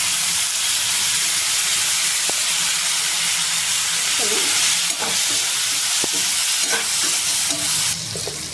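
Curry leaves fry in hot oil in a pan, producing a loud, dense, continuous sizzling hiss with a few faint utensil taps and stirring scrapes throughout.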